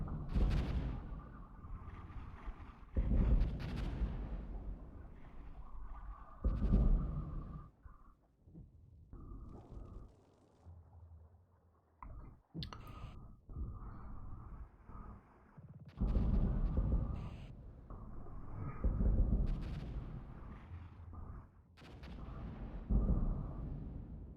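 Artillery fire in the Armored Brigade video game, set in a 1983 battle, brings irregular booms and gunfire-like bursts. They come in clusters, separated by quieter gaps, and there is no speech.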